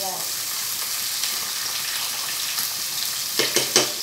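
Chicken meat pan-frying with garlic and onion gives a steady, close hiss of sizzling oil throughout, with a few stirring scrapes near the end.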